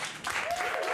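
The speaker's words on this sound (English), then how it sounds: "Round of applause for Finley, please." Brief burst of audience applause at an evening poetry event in Edinburgh, dense clapping from a crowd lasting about a second with a faint tone running through it.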